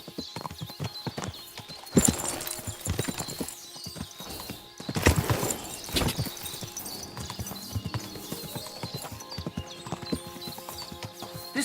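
Horse in Kingdom Come Deliverance 2 with a steady run of close hoof clip-clops and a couple of louder whinnying bursts, game sounds alone with no talk.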